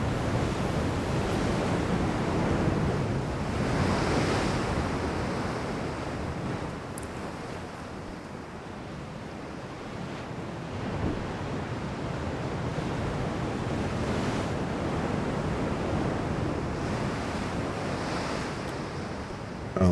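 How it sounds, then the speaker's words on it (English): Slight sea waves in the naval game Ultimate Admiral Dreadnoughts wash and surge steadily with a windy hiss, rising and easing in slow swells, with no talk. "Slight sea waves."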